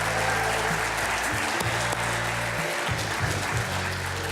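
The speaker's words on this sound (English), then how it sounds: "How about a big round of applause for Mr." An audience claps steadily through a round of applause for Coach Ray Lewis. The applause is moderately loud and continuous, with a low hum running underneath.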